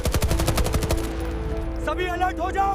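Rapid bursts of machine-gun fire ring out loud and close for about a second in an Indian war drama with Pakistani artillery, then a voice shouts over a lingering rumble.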